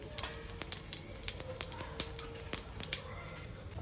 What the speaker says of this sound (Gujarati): જીરું આપણું ક્રેકલ થઈ જાય